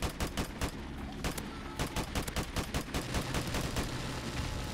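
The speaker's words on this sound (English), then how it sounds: "this is how you use an automatic weapon" Automatic weapon gunfire in Modern Warfare Remastered rattles in rapid, loud, sustained bursts, dense and close, with a steady rhythm of shots throughout.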